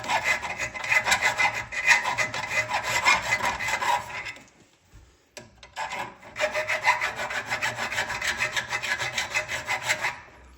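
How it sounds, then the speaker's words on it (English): A round file rasps back and forth on the metal of a Volvo P3 rear suspension part during a camber adjustment. Steady, rhythmic strokes fill the clip and stop briefly midway before resuming, close and loud with no talking. "I'll just use a round file and run it back and forth here until you reach the millimeter or 2."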